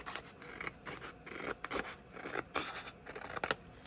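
Scissors cut through material in a series of short, crisp snips, several quick cuts close by with small pauses between them.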